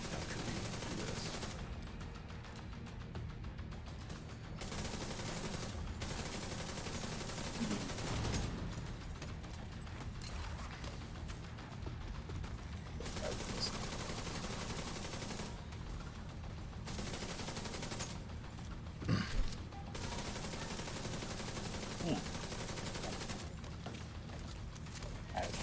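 Capacitor gun firing in The Division, repeated bursts of rapid gunfire with mechanical clacks between volleys, loud and close with brief pauses, no talk.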